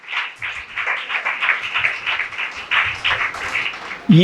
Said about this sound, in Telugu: అందరూ చప్పట్లు కొట్టి దేవుని నామాన్ని గనపరచండి అందరు కొడితే గట్టిగా కొట్టండి